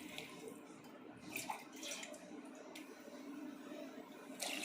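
Water is poured in short splashing bursts into a pot of rice for chicken biryani, faint and close, with a low background hiss.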